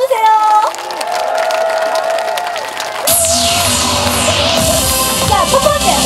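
A festival crowd at an opening-night concert claps and cheers loudly and continuously, with whoops and shouts rising as the music kicks in midway.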